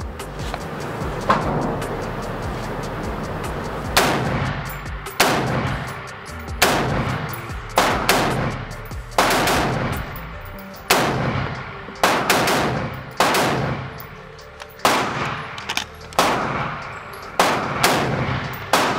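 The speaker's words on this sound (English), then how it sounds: "let's put some rounds down range and show you how it shoots unsuppressed" An AR-style rifle with a Foxtrot Mike FM-15 Gen 2 11.25-inch upper fires unsuppressed in a series of loud, sharp shots, some in quick pairs and others spaced a second or so apart, each followed by a brief echoing decay.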